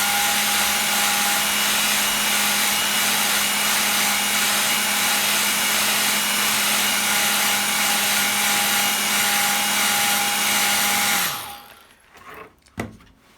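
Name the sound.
hairdryer blowing to dry watercolour paint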